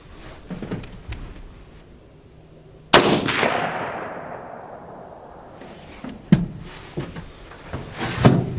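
A single loud, sharp gunshot from a 6.5 Grendel AR rifle cracks out close by and then trails off in a long echoing decay, with quieter handling knocks before and after.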